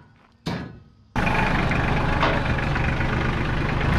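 A Kubota four-wheel drive tractor fitted with a loader bucket starts and settles into a steady, loud, close diesel idle after a brief opening knock and a short burst of engine noise, running continuously with no talk.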